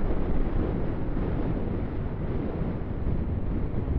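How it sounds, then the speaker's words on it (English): Steady, loud wind gusting across the microphone at the shore, a continuous broadband roar with faint surf underneath. "So it's been windy, but not ridiculous."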